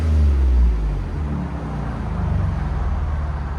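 A Ford Raptor with a 3.5L twin-turbo V6 and Borla ProXS exhaust idles nearby, a steady low rumble that swells slightly at the start and then holds an even drone.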